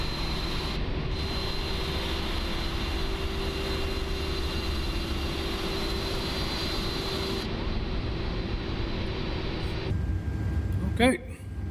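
Airbus A330 jet engines whine at a steady, continuous drone while the airliner taxis in Microsoft Flight Simulator 2024, holding constant before a brief clunk near the end.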